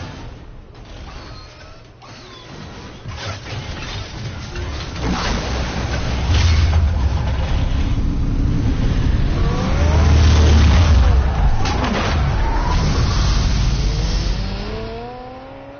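A car engine in Batman: The Telltale Series loudly revs and builds in a sustained rising roar with mechanical whine, swelling near the middle before easing off, with faint tonal sweeps over it and no talking.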